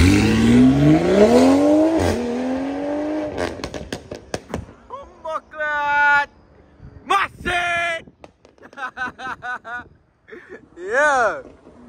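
A BMW M340i with its exhaust valves open revs loudly nearby: a rising accelerating roar, then a series of sharp blips and crackles, with people talking in between.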